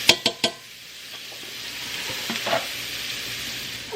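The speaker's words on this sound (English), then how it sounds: "Saute my onions really good first" Onions sautéing in hot oil in a pan: three quick metallic clanks of a utensil against the pan, then a steady close sizzle with soft stirring scrapes rising briefly before settling.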